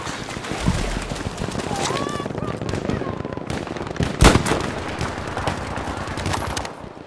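Repeated video game gunfire cracks in quick irregular bursts amid a busy battle soundscape, with one sharp loud shot standing out near the middle and players talking in the background.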